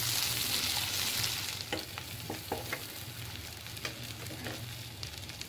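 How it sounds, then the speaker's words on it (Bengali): Pointed gourd with chopped onion fries in mustard oil, a steady sizzle running under the scrape and clack of a spatula as it is stirred several times in the pan. "সরষের তেলে ভালো করে নাড়িয়ে নিই।"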